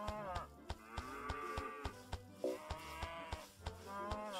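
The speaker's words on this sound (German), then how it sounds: "Kuh." A cow in the farming game Micro Town gives a long, drawn-out moo, then a second one, over regular ticking clicks and soft background game music.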